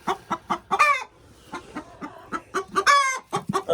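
A broody hen sitting on eggs clucks close by in quick, rhythmic bursts, rising twice into louder drawn-out protesting squawks, with no talking.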